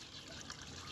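Water flows from a household bathroom in a steady, faint, hissing trickle with no other sounds.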